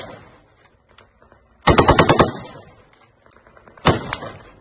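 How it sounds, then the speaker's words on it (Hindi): Soldiers open fire on houses with automatic weapons: a loud rapid burst of about six shots, then a single sharp crack a couple of seconds later, over faint background noise. "अब वो सीरिया में भी कर रहे हैं और फिलिस्तीनियों के घरों पर ओपन फायर कर रहे हैं।"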